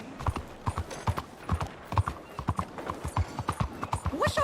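Horse hooves clip-clop steadily on a hard street in the Western video game Red Dead Redemption 2, close and rhythmic, with a brief whinny or voice near the end.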